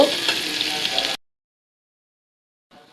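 Onions and chillies sizzle hissing in a hot pan for about a second, then the sound cuts to silence before a brief faint return at the end.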